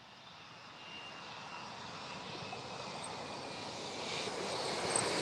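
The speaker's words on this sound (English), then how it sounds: "we have the Emirates A380 about to land here" An Emirates Airbus A380 comes in to land, its broad engine roar rising steadily and growing louder as it nears, steady and continuous with no talk over it.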